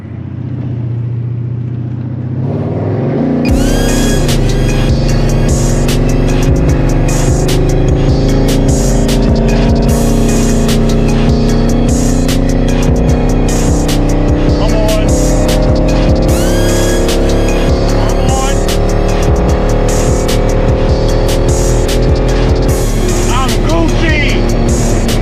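A Chevy small-block Vortec V8 in a truck revs hard toward redline in a garage before a chassis dyno run: loud, close, sustained engine roar with repeated climbing pulls for about twenty-five seconds, and no talking.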